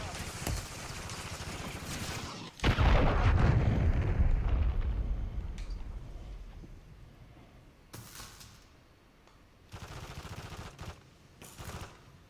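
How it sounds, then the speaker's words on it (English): A cruise missile strike exploding in Call of Duty: Modern Warfare III, a heavy booming blast with rumbling low end that swells and slowly decays, amid scattered gunfire bursts before and after. "Hostile cruise missile incoming."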